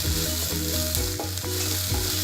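Spring onions stir-fry with turmeric in a pan for a Kerala-style thoran, giving a loud, steady sizzle broken by regular scraping stirs, with no talking.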